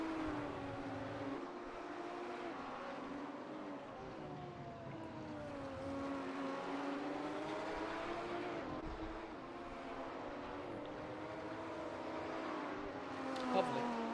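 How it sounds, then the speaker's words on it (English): Race cars lapping the Ahvenisto circuit in a racing video game, their engines a steady, overlapping drone of rising and falling whines that sound moderately distant and run continuously throughout. "Can you also guys hear the cars going around?"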